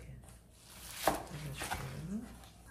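A knife slicing young radish for kimchi on a cutting board, with one sharp cut followed by softer chopping strokes at close range under a low voice.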